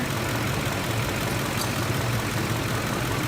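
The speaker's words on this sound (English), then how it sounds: "The vehicle's at a hot idle right now" A Ford vehicle with a 4R70W transmission sits at hot idle, a steady low engine drone holding even and constant, close and alone.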